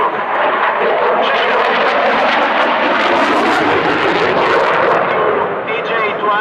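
An Italian Air Force Eurofighter Typhoon jet fighter rolls at maximum angle of attack, its engines a loud, continuous roar that holds from start to finish, with an announcer's voice partly buried beneath it.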